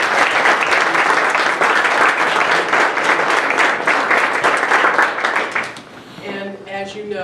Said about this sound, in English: Thank you very much, and let's give them a round of applause.